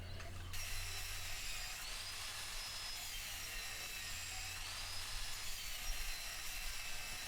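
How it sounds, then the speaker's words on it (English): A homemade chop saw with a cutoff wheel grinds through four steel bars at once, a continuous harsh high whine with a steady low motor hum underneath and small shifts in pitch, heard alone without talking. "It took me about 3 minutes to cut all 4 of those bars at the same time."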